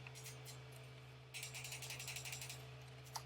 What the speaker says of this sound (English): pop the switch onto those 2 screws. Make sure that that clicks nice and clean.